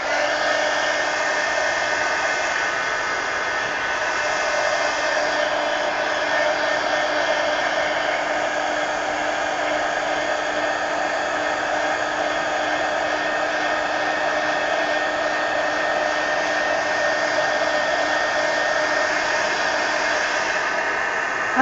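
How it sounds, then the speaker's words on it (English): Heat gun blowing hot air over an altered book page, a loud, steady close-up roar of airflow that holds unbroken throughout with no speech. "Let me hit this with the heat gun"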